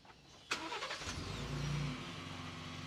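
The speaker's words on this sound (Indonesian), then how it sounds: "dia bisa menyalakan mesin dari kunci" A Ford F-150 Raptor pickup starts by remote key, a sharp crank and catch followed by a rising rev that settles into a steady idle, close and alone.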